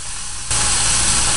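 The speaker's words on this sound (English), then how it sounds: "You can hear the beautiful sizzling." Steady broadband sizzle that jumps louder about halfway through, a dense crackling hiss of NY strip steak frying in a hot pan, close and continuous.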